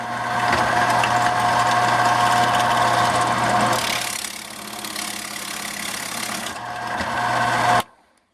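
A small 1.5 Forstner bit bores into wood while shaping the track of a walking stick flute. The drill motor gives a steady, close, continuous whine that shifts in tone partway through as the cut changes, then cuts off abruptly.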